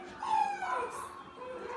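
A dog on a slip leash gives soft, high whimpering whines in short drawn-out bursts, fairly close and continuous over the moment, with no talk over it.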